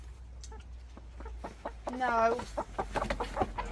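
Newly arrived young chickens cheep and cluck in a cluster of short calls, with one louder sustained call in the middle, under a person speaking briefly nearby.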